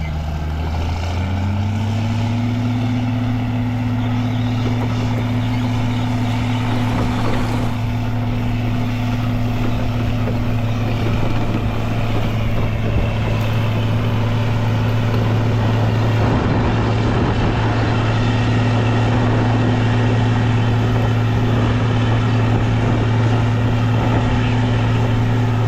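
An Allis-Chalmers 8070 tractor pulling a disc across wheat ground drones with a loud, steady low engine hum throughout, constant and close, with no talking.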